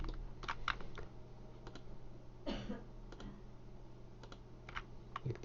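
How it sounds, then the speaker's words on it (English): Computer keyboard keys and mouse buttons click in short, light, irregular bursts at close range while a 3D model is being edited, with no talking. "We hold Control and left click to add more points."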